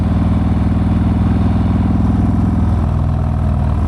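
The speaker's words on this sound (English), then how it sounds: "just enjoying my day on the motorcycle." A motorcycle engine drones loudly and steadily up close, its low throbbing pitch dropping slightly partway through as the ride continues.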